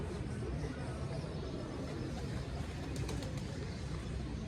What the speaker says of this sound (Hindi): दाना पा रहे कबूतरों को